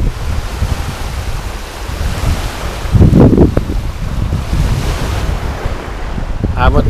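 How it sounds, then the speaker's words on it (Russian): Strong wind on a beach buffets the microphone in rough, rumbling gusts, with surf washing in the background and a louder blast midway. "Потому что ветер дует мне сейчас в лицо."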